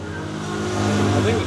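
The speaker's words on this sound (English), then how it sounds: "That's a nice loud truck. There's a hill right here, so the trucks, they have to chug up the hill." A loud truck labors up a hill in Bali, Indonesia, its engine chugging and rising steadily in level, with people talking over the engine noise.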